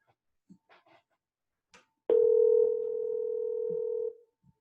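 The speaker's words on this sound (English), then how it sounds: "Sucker's ringing right here." One sustained telephone ringing tone, loud and steady for about two seconds, with faint background noises before it.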